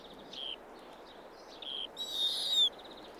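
Arctic owl calls in a quiet, open setting: a few short, faint hoots and chirps early on, then a louder, drawn-out shrill call near the end, with no voices present.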